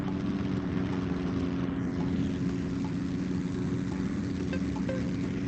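A propeller plane cruising in the VR flight game UltraWings 2, its engine a steady, close droning hum that holds unchanged throughout with no talk.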